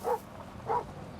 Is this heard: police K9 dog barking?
yes